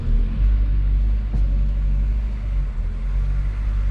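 A Volkswagen Golf is driven slowly around a car park, its engine a steady low rumble close by, with a single brief knock partway through and no one speaking.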